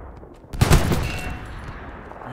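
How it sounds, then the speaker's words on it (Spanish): Gunfire from the World War II shooter Hell Let Loose: a sharp burst of several rapid shots rings out after a quiet moment, then decays into a long echoing tail over faint background ambience. "Aprovechar el sonido de disparo para cubrir mi"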